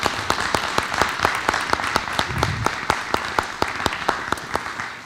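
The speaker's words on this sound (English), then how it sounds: "So if you would give them a round of applause as they come forward." Audience at a school board of education meeting applauding steadily, with distinct individual claps standing out in an irregular rhythm over a continuous wash of clapping throughout.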